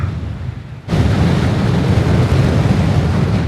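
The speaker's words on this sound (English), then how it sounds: "That was a real big gust." A strong gust of wind on a fell summit in the Lake District hills roars suddenly into the microphone and stays loud and rumbling for several seconds, with no talking.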